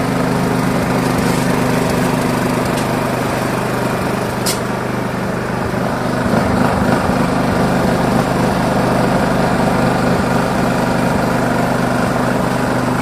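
A petrol inverter generator runs steadily just after starting, its loud, even engine drone going on without a break, close by.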